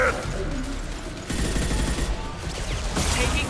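Enemy gunfire in the video game Mass Effect Legendary Edition crackles in rapid bursts of automatic shots with a steady combat din underneath.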